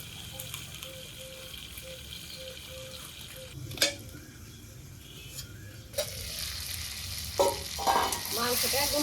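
Free-range country chicken stir-fries in a pot, a continuous close sizzle with occasional scraping stirs, growing louder and brighter in the last few seconds.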